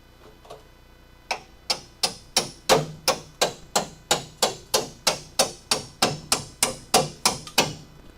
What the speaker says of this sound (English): Let me get my chisel.